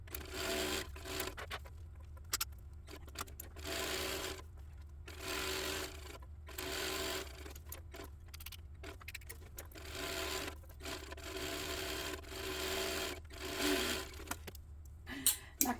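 A sewing machine stitches bag strap connectors and handles in repeated short whirring bursts of rapid needle chatter, separated by brief pauses as the fabric is adjusted, close and fairly steady.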